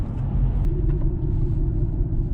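A Mitsubishi Outlander PHEV, about three years old, cruises on a winter road, giving a steady low rumble of road and drivetrain noise inside the cabin with no clear braking event standing out.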